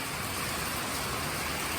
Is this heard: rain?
yes